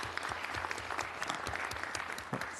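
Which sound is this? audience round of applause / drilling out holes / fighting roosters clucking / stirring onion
audience round of applause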